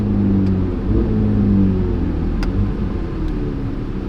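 A twin-turbo Chevrolet Corvette C8 Z06 pulls away from a stoplight, its engine a steady low rumble heard from inside the car, building slightly and then holding, with no voices.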